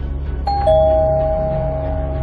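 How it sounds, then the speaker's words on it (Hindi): A two-tone doorbell chime rings once, a higher note followed by a lower one that lingers and fades over a faint background hum. "दरवाजे की घंटी बजी।"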